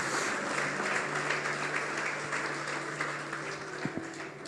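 A congregation at a church celebration service applauds together, a broad, steady clapping that fills the room with faint tonal hum underneath and fades slightly toward the end.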